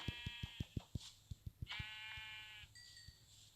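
Synthetic Minecraft sheep bleats ring out over a rapid series of soft thumping footsteps, with a quiet electronic hum underneath.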